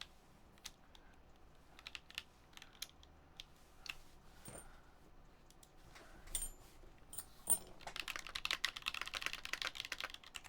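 Computer keyboard keys clack during a typing test, scattered individual taps at first, then a dense, rapid run of keystrokes near the end, close and fairly quiet.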